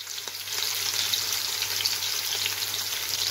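Finely chopped medium onions fry in hot oil with a steady, close sizzle and crackle, a constant bright hiss throughout with occasional stirring taps.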